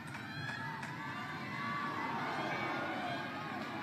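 Large crowd cheering and shouting at a world table tennis championship match in Doha, a continuous loud roar of many voices with children's shrieks, sustained for several seconds without any commentary.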